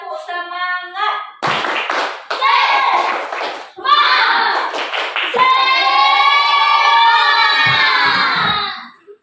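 A class of children does a rhythmic spirit clap, sharp group claps in a patterned beat mixed with loud chanting and shouting voices, close and energetic.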